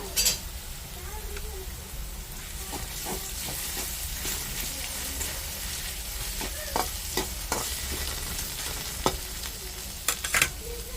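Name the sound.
potatoes frying with cumin paste in a pan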